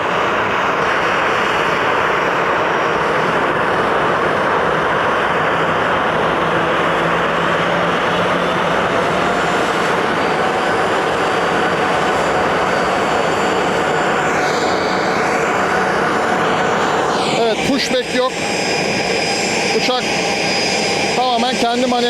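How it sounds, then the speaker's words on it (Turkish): SunExpress passenger jet engines run at a steady, loud idle on the apron before taxiing, with a continuous roar and whine, and some fluttering changes near the end. "Şu anda uçak taksiye hazır."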